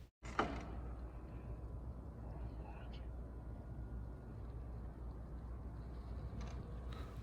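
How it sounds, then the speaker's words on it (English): A single sharp door slam rings out early in an empty school gymnasium, followed by a long, faint, hollow room hum with a few soft distant clicks and knocks. "We hear what sounds like a door slam"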